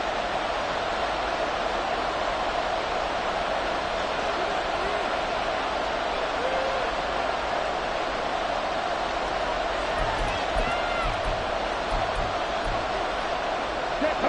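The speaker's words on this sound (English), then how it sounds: "A big play here. Crowd on their feet." Crowd roar from an EA Sports football video game, a steady, dense wash of cheering that holds loud and even throughout with no breaks.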